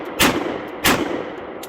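A Cimarron Frontier single-action .357 Magnum revolver with a 5.5-inch barrel fires two sharp, loud shots about two-thirds of a second apart, with the hammer fanned and a short ringing tail after each.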